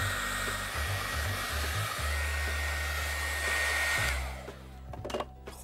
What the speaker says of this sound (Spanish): E incluso se puede hacer con calor de secador, con calor seco.